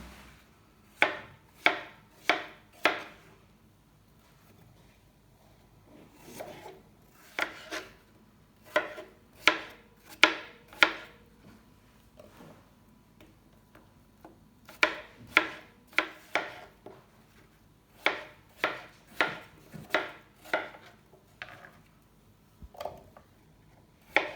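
A knife chops apples into cubes steadily on a cutting board in short bursts of quick, sharp taps with brief pauses between, close and clear, no talking.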